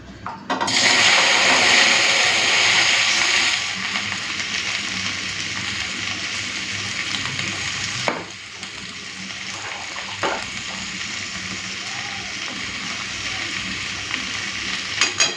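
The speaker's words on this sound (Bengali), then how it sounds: "আজকে পাঁচ ফোড়ন আর শুকনো লঙ্কা দিয়ে এই ভেন্ডি বা ঢেঁড়সটাকে ভেজে নেব" Sliced okra frying in hot oil with panch phoron and dried red chilli gives a loud sizzling hiss that settles into a steadier, softer fry, with a couple of sharp knocks, no talking.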